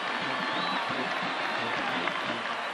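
A sellout crowd at a 1996 Nebraska vs Oklahoma college football game cheers and applauds a Sooners touchdown, a dense continuous roar heard at a distance with a faint commentator voice underneath.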